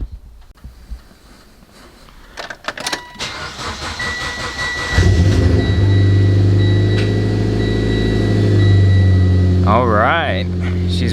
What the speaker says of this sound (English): Let's go ahead and crank her up and check everything.